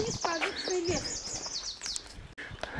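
A small bird chirps in quick repeated calls, bright and fairly close, with faint ambient background and a brief break near the end.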